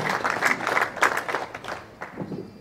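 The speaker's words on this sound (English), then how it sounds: "let's give them a huge round of applause" An audience applauds at a Kansas Big Brothers Big Sisters charity auction, with a steady wash of many hands clapping that holds strong, then thins and fades toward the end.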